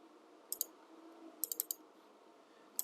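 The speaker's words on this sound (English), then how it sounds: "if I double click on this" Sharp mouse clicks in computer software, coming as quick double-clicks in a quiet room: one pair early, a cluster of three or four in the middle, and one more click at the end.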